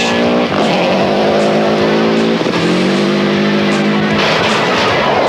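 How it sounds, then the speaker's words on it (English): A rally car at speed on a forest special stage of the 1994 Rally Australia, loud and close, with engine revs rising and dropping through gear changes and a harsh, gritty roar throughout. "The Flying Scot was again charging and looking confident on the first special stage."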